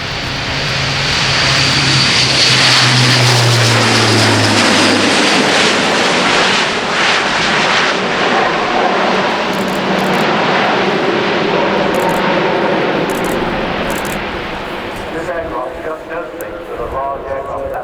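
An Airbus A400M military transport aircraft flying at RIAT, Fairford: a loud, sustained propeller-engine roar that swells as it passes close by, then slowly fades into the distance, with voices talking over it.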